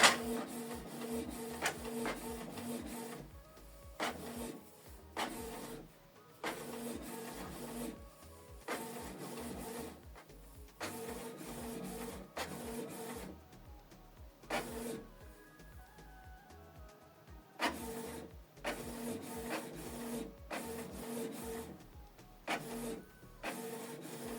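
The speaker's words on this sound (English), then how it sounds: "So the document is printing." A Canon PIXMA TS3350 inkjet printer printing a document, its mechanism whirring and grinding in repeated back-and-forth passes separated by brief pauses, close and moderately loud, with no speech.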